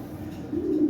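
A pigeon coos close by in a loft of collected fancy pigeons, a single low throaty coo swelling near the end of a short moment with no talk.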